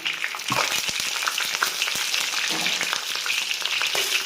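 Sliced ginger, garlic cloves and scallion hit hot oil in a wok, sizzling and crackling steadily with scattered sharp pops and stirring scrapes, close and alone.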